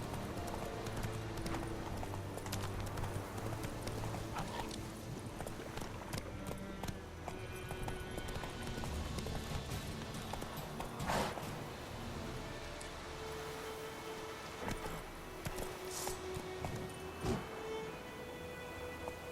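Horse hooves galloping in The Witcher 3 video game, a steady rapid clip-clop that runs through the whole stretch at close range, with a brief snort or whinny and game ambience underneath.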